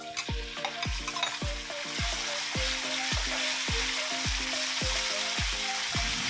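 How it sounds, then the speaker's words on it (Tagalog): Chicken breast sizzling with minced onion in a hot pan for pansit canton, with a steady loud frying hiss and repeated scraping stir strokes of a utensil against the pan at a regular rhythm, close up with no talking. "Igigisa na natin ang ating breast chicken."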